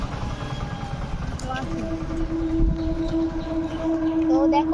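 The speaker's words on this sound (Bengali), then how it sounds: "ওখান দিয়ে কিন্তু ট্রেনও যাচ্ছে" A train rumbles past with a long, steady horn-like tone over a broad roar during rain beside waterlogged, flooded ground, while a person talks over it.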